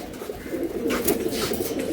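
Giribaj pigeons cooing in soft, low rounded calls close by, a steady murmuring flock sound with faint rustling above.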